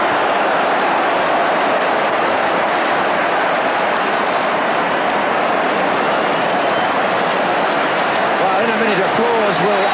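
Applause and crowd roar from supporters filling Anfield during a 1988 Liverpool versus Nottingham Forest football match, a dense, steady wash of clapping and cheering that holds loud throughout.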